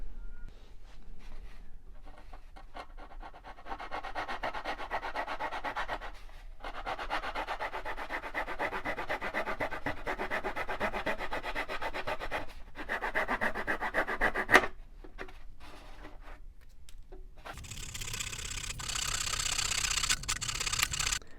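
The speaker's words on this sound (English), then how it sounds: "I'm just going to try to trim it with this little saw." A small hand saw trims balsa wood in short bursts of dry, raspy back-and-forth rubbing, broken by pauses, close and moderately loud, ending in a brighter stretch of scraping.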